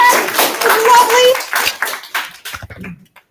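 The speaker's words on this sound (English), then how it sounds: "Let's clap her." Students in a high school physics class give a classmate a short round of clapping, scattered close claps mixed with cheerful voices and chatter that trail off into quiet.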